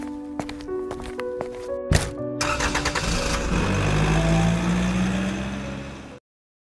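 A motorbike starts up after a few footsteps and clicks, then its engine drones steadily and builds before cutting off abruptly, fairly close with no talk over it.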